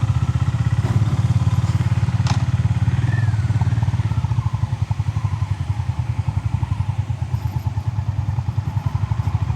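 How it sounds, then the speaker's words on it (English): A Honda GB 350 S motorcycle engine starts and runs at a steady idle, a low rapid pulsing thump that stays loud and close throughout, with a few light clanks early on. "Okay, so start the engine."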